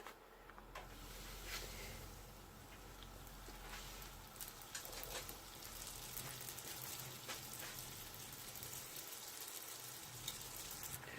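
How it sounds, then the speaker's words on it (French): A donut fries in hot oil, giving a soft continuous sizzle and crackle with fine popping spatters, fairly faint and steady throughout. "Là, je prends un donut, je vais le mettre dans de l'huile."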